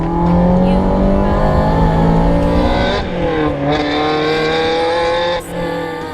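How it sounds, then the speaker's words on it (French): A Ferrari 360 Modena's V8 hums loud and steady from inside while driving, a rich harmonic drone that dips and shifts pitch as the revs change, with a brief lull near the end. "vous vous laissez envoûter par la belle musique du V8 que l'on voit bouger juste sous nos yeux derrière la vitre"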